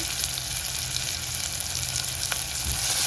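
Asafoetida dropped into tomatoes frying in hot oil for moong dal gives a steady, close sizzle with soft spattering crackles, fairly quiet and without a voice.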